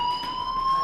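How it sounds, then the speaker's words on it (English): A school fire alarm in the video game Life Is Strange sounds a steady, loud electronic ringing tone that holds without a break. "Hey, do you hear that fire alarm?"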